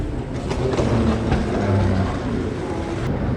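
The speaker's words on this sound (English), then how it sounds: "It's the local commuter train." A local commuter train in Kaohsiung rumbles steadily with a low, continuous rolling drone and faint rhythmic clatter, loud and close, with no voices.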